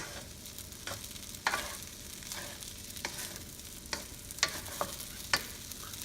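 Binagoongan fried rice being tossed and mixed in a hot pan, with a continuous sizzle and several sharp spatula scrapes, close up and without talk.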